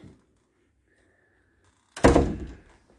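A door in a nursery toddler room shuts with a single solid thunk, close and fairly loud, after near silence.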